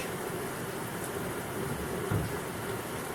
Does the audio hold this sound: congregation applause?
no